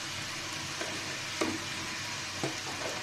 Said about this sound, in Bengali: দিয়ে মশলাটাকে আমি ভালো মতো কষিয়ে নিব। 2-3 মিনিট মতো কষাতে হবে